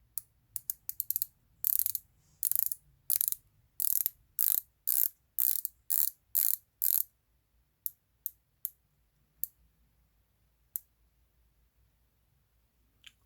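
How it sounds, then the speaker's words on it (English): The 60-click unidirectional bezel of a Pagani Design PD1674 watch is turned, giving rapid bursts of sharp ratcheting clicks that then thin out to single, spaced clicks, close and crisp against near silence. "Now it's a 60-click unidirectional bezel. Let's go ahead and have a look at the rotation."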